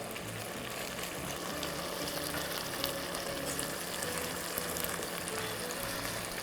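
Scallion pieces sizzling in a lidded pan with beer over medium heat: a steady, moderately loud frying hiss with light bubbling and crackle, close by and without talk.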